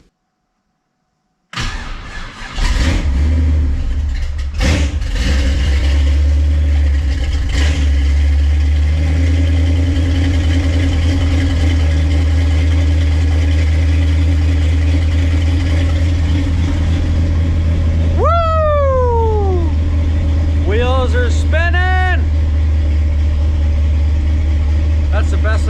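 A 1967-72 Chevy truck engine, its battery a little low, cranks and fires after a short silence, then settles into a loud steady idle with a few sharp rising revs later on.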